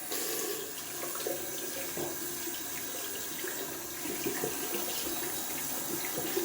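Steady running tap water pours into a sink as a boar shaving brush is rinsed clean of leftover lather, a continuous close splashing hiss with no talk.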